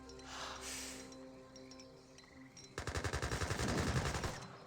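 Rapid volley of musket fire from sharpshooters in Age of Empires 3, a dense rattling burst of shots in the second half that follows quieter game ambience and is loud and close.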